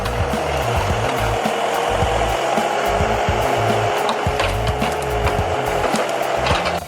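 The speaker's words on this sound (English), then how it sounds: "Using its built-in crane, it carefully picks up logs and places them on its trailer." Forestry forwarder crane loading logs onto its trailer, a loud continuous mechanical whine and engine drone with scattered woody knocks and creaks, close by.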